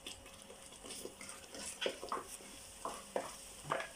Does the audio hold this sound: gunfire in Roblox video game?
no